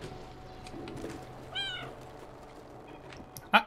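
Cat meowing in the video game Stray: a single short meow midway over quiet ambient background, followed by a brief sharp sound at the end.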